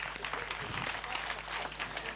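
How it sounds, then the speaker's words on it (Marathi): Steady clapping rises from the audience at a kirtan in an auditorium, a brief, moderately loud patter of many hands with a low hum underneath. "मृदंगाचार्यांसाठी टाळ्यांचा गजर"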